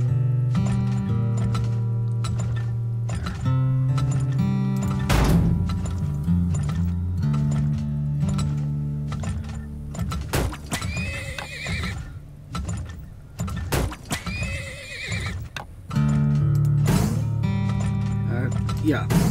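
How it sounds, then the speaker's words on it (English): A horse neighs in the video game Turmoil, with a couple of drawn-out whinnies rising over looping game music and sound effects. "Got another horse."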